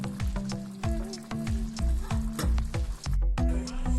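Bacon and botifarra sausage sizzle in a pan with broad beans for Catalan-style faves. The frying hisses steadily alongside repeated clinking and stirring knocks, and no one speaks.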